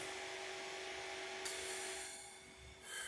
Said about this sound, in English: Sounds like a chainsaw right there if you can hear it.